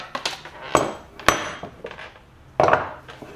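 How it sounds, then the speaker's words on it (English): Metal clinks and knocks as an OTC Pitman arm puller is handled and set down, a few sharp separate impacts with quieter rattles between them, close by. "for the replacement, I went with this OTC Pitman Arm Puller"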